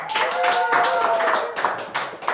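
An audience at an event about work-accident care claps briskly, a close burst of hand claps with a voice sounding faintly alongside.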